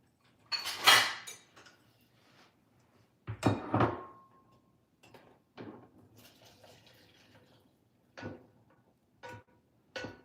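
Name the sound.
draining fat from cooked Italian sausage in a pan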